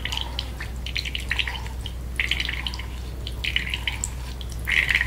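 Milk thinned with a little water drips and trickles through a sieve in a home kitchen, small irregular droplets pattering close by in uneven bursts over a low steady hum.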